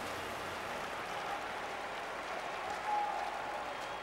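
Crowd applause fills an Olympic diving venue at London 2012 after a dive, a steady, even wash of clapping from a large audience heard at a distance, with no talk over it.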